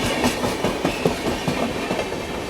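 A passenger train runs on Indian railway track during an overtake by the Banaras Superfast, a loud, close, steady rumble with rhythmic clickety-clack wheel beats over rail joints. There is no speech.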